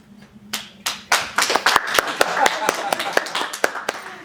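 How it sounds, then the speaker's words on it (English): Audience at an improv comedy show breaking into a round of applause, scattered sharp claps building into steady clapping from a small crowd nearby. "by a round of applause, how many of you think it's Terri's story?"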